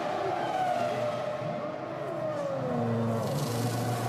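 Michael Schumacher's Ferrari Formula 1 car comes in for a pit stop at the 2000 Spanish Grand Prix, its high engine whine gliding down in pitch as it slows, loud and close.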